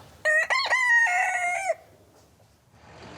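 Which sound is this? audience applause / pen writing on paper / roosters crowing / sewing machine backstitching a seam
roosters crowing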